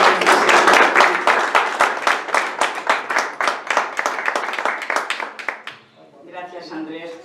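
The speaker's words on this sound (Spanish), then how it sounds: "Un aplauso." Audience applause at a poetry book presentation, a loud run of clapping that thins out and stops, followed by someone speaking.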